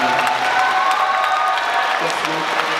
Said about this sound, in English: A warm applause for Janine,